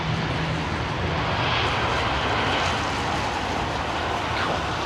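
An airliner with CFM56 engines lands at London Heathrow, its clamshell thrust reversers deployed, a loud continuous roar of engine and rushing air holding steady throughout, heard from a distance without talk.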